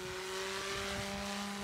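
A model RC helicopter under torque assisted left yaw gives off a steady, sustained tonal whine from its rotors. The pitch stays constant and the level holds fairly loud throughout, with no speech.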